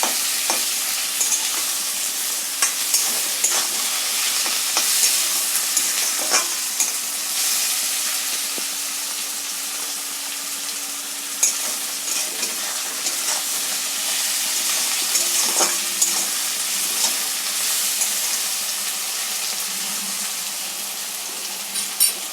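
Lote fish jhuri being stirred in a frying pan, a bright continuous sizzle close by with regular scraping and tapping strokes from the spatula throughout.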